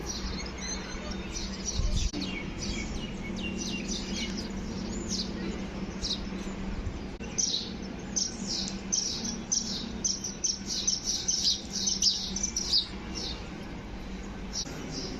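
Sparrows feeding on bundles of grain, quick high chirps and tweets coming in scattered bursts, faint to moderate over a low background hum.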